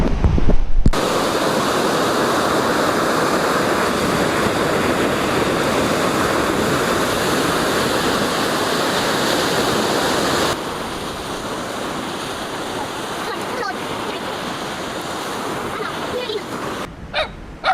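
Surf washing onto a beach on Mindoro in the Philippines, a steady broadband roar of waves that runs loud and continuous, easing slightly partway through, with brief handling noises at the start and end.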